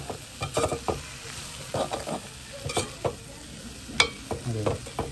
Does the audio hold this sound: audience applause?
no